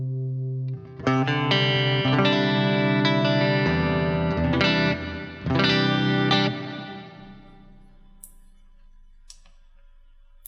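Electric guitar played through a BOSS GT-1000 CORE effects processor with reverb, ringing chords struck several times and left to decay into a long, fading reverb tail, with no talking.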